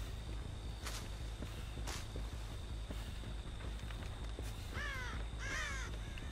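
Crows caw repeatedly in the Dead by Daylight video game, with a few isolated caws early on and then a cluster of harsh, quick caws near the end, heard over a steady low ambient hum.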